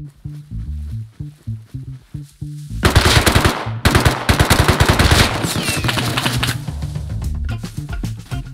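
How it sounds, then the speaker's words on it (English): Gunfire rattles in the survival video game Rust, beginning with rhythmic low thumps and then breaking into loud, dense automatic bursts that keep going with short pauses between them. "I heard some shooting over here."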